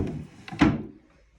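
A short wooden thunk of a drawer being pulled open close by, with a brief scrape before it in an otherwise quiet room.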